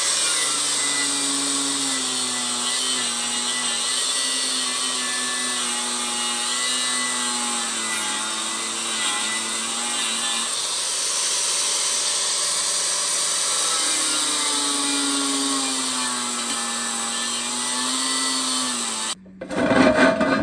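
A steady, droning power-tool cut through the lip of a three-piece wheel grinds on for a long stretch, its pitch wavering slightly, ending with a few sharp hammer knocks.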